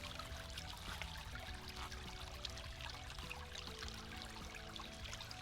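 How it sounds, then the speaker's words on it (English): Water sloshing and trickling steadily in a gold prospecting pan as paydirt is washed, a continuous close wet swirl and pour with small splashes throughout and no talking. "Just allowing the water to do the work, wash the material off the top while keeping the heavies down in the bottom of the pan"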